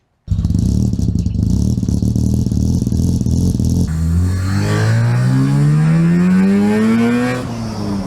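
A car engine cold-starts on a chilly 4-degree morning, settling into a rough, loud idle before revving up in one long climbing pull and easing back, close by, with no talking.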